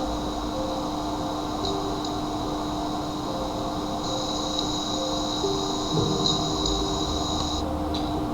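A train in Train Sim World 5 runs steadily, giving a continuous rumble with sustained high tonal whines and a brief squeal or clank near the end, heard alone without talk.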